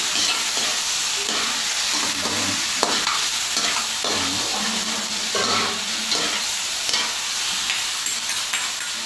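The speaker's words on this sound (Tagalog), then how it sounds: "Haluin natin yung karne natin." Chicken meat for adobo is stirred in a hot pan, with close scraping strokes of a spatula over a continuous sizzle of frying in the home kitchen.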